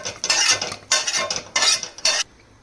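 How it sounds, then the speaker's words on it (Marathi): A spoon scrapes and stirs a masala mixture in a pan in four distinct, fairly loud strokes with brief pauses between them, and nobody speaks. "हे सर्व एकत्र करून हलवत राहा."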